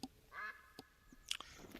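Ducks quacking in the hunting video game Hunter Call of the Wild, a few short faint calls spread out over quiet ambience with a couple of brief clicks.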